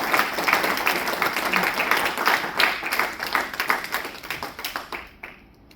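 A church congregation claps in sustained applause, with a loose rhythmic pulse running through the sound, before it fades out near the end.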